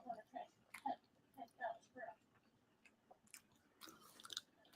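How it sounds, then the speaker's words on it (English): Loud, wet open-mouthed chewing from a man eating, a run of close smacking bites in the first couple of seconds, with quieter chewing and room noise after. "He doesn't even close his mouth when he chews."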